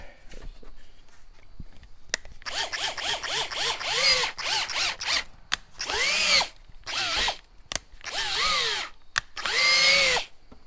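Power drill with a 1/4 inch bit boring holes while a Ram 1500 grille is fitted: repeated short whirring bursts that rise and fall in pitch, close and loud, separated by brief pauses.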